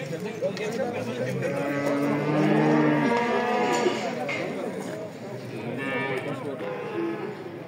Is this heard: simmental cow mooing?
yes